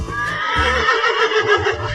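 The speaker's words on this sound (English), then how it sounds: "Horse." An animated horse lets out one loud, close whinny lasting about two seconds, with a quavering, wavering pitch and no talk over it.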